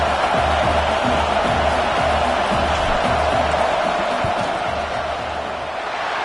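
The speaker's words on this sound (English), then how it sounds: "This crowd trying to do its part to get inside the kicker's head." A football stadium crowd at an LSU vs Texas game roars in a dense, continuous wash of noise during a fourth-down field goal attempt, loud and sustained with no clear individual voices.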